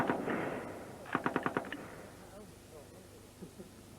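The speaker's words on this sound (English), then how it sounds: "A good marksman on the Lewis gun, 150 rounds in 1 minute" A Lewis gun machine gun fires a short rapid burst of about six evenly spaced shots after a louder opening blast. It sounds moderately distant, and faint voices are heard around it.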